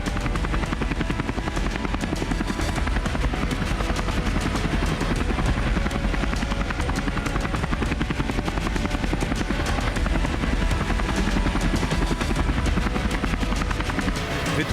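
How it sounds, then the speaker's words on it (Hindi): Fighter helicopter with a loud, steady rotor thump and engine roar that stays close and constant throughout, with no voices. "fighter helicopter,"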